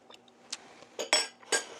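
A small spoon scrapes and clinks against a pan while stirring butter rum sauce, a few short metallic taps and scrapes, close and fairly quiet, with no talking.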